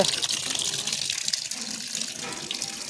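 Tap water gushes steadily into a washing machine drum being filled for laundry in a home courtyard, a continuous close, bright rushing stream with no break.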